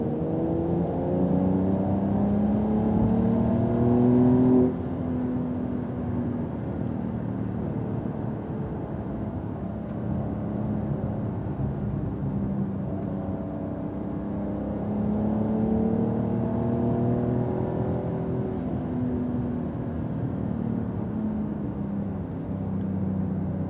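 A Porsche Carrera GTS engine revs on a wet track, climbing in pitch under acceleration, easing off with a sudden drop, then rising again, loud and close with a constant hiss of tyres and spray.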